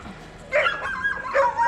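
Dogs at an animal shelter in Yakutia give a couple of brief, close yelping barks over low background noise.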